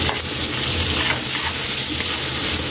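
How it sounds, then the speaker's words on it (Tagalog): Garlic sizzling in melting margarine in a pan for fish adobo, a steady dense crackling fry that runs close and loud, with no talking over it. "Ilagay na natin Kaylee yung bawang natin habang tinutuna yung margarine natin."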